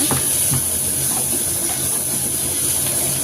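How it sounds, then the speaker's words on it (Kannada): Tempering spices sizzle in hot oil with a steady, loud hiss and a few faint pops and clinks, no voices. "ಹಾಕ್ಕೊಂಡು ಚೆನ್ನಾಗಿ ಎಣ್ಣೆಯಲ್ಲಿ ಫ್ರೈ ಮಾಡ್ಕೊಳ್ಳೋಣ"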